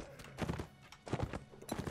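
Horse hooves galloping in the medieval combat game Mount and Blade Warband, quick thudding bursts in a few loud clusters of rapid beats, close and fairly prominent against a busy background.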